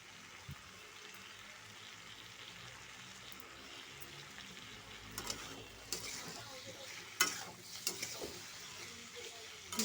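Tomatoes and spice masala stirred and fried in a pan for a Bengali okra curry, a low steady sizzle with scraping and clattering spatula strokes growing louder toward the end, no talking.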